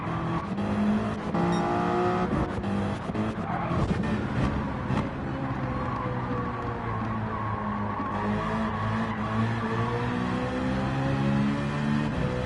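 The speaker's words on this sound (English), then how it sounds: "group of 3 cars or 4 coming behind me" Race cars in Gran Turismo 7 at Watkins Glen closing in from behind, a sustained loud engine roar with rising and falling pitch and bursts of tire squeal, dense and continuous throughout.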